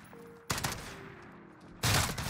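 Gunfire in the Modern Warfare search-and-destroy game, with two loud, broadband blasts, the second stronger, separated by a stretch of quieter in-game ambience.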